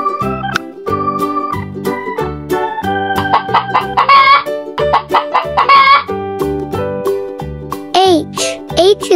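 A few short hen clucks ring out over a bright, bouncy musical tune near the end.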